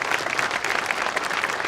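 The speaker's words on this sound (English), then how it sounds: "How about another round of applause for Period 6?" An audience at a junior high sixth grade winter band concert bursts into dense, sustained applause, many hands clapping at once in a school hall.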